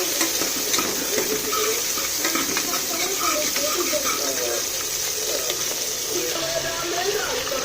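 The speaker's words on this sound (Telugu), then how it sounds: "ఫస్ట్ వచ్చేసి మనం పచ్చిమిర్చి వేసుకొని వేయించుకోవాలి." Green chilies fry in hot oil in a pan with a steady, loud, close sizzle and hiss that runs throughout, with light stirring scrapes mixed in.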